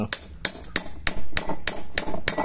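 A hammer taps a front shock oil seal into place without special tools, striking eight sharp metallic blows close up at a fairly even, moderate pace.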